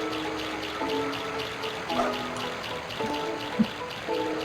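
Light splashing and trickling as a Chao drops into the water of a garden pond in Sonic Adventure, soft and close over a faint game background.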